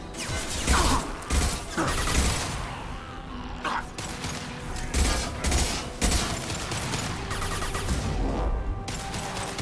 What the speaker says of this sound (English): A misplaced shot could cause a significant explosion.